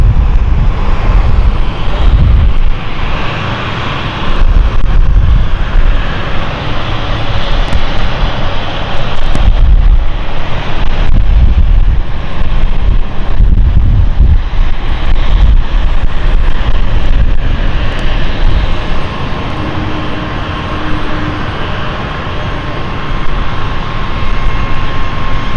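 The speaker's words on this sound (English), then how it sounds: "Another planted landing there from Lot." LOT Airbus A220 jet landing at London City Airport, a loud sustained engine roar with broadband rumble and wind buffeting throughout, a faint steady tone rising midway and the noise easing slightly near the end.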